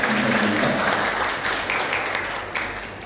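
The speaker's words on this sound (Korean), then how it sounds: "우리 이분들을 격려하는 박수를 한번 할까요?" A congregation at a Sunday service in a Bali church gives sustained applause of encouragement, a dense continuous wash of many hands that tapers slightly in volume.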